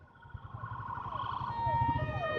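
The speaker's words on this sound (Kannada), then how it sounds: "ಇಲ್ಲ ಅಲ್ಲಿ ಆಂಬ್ಯುಲೆನ್ಸ್ ಎಲ್ಲ ಬಂದೈತಿ." An ambulance siren at a roadside accident scene, rising in wailing tones over rumbling traffic and growing louder as it approaches.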